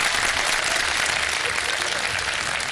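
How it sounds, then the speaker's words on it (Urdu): Audience applause in a TV studio during an Iftar-time game show, dense steady clapping from a crowd, close and continuous throughout with no pauses. "تالیاں تو بجا دیں بھائی"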